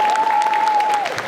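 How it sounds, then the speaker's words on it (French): Audience applause fills a cosplay contest hall at a Japanese culture convention, a dense steady patter of many hands, with a thin sustained whistle-like tone running beneath it before the clapping thins out. "Félicitations, on peut l'applaudir s'il vous plaît."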